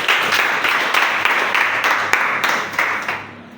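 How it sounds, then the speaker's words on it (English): A group of people clapping together at a church appreciation gathering, steady broadband applause with a few sharper claps, fading slightly toward the end. "Let's clap for that one."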